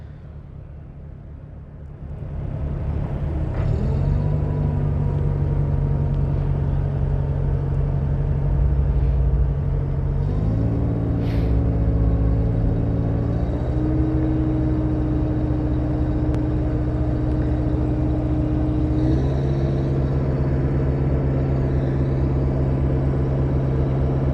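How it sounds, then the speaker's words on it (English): Truck-mounted crane retracting its boom into its housing, a loud steady engine and hydraulic drone that starts after a quiet moment and shifts pitch in several steps, continuous and close. "He is retracting his boom and bringing it back into housing."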